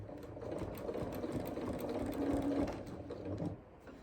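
A sewing machine runs a steady stitching burst on a scrap-fabric project, with a continuous mechanical whir that eases off near the end, heard alone without talk.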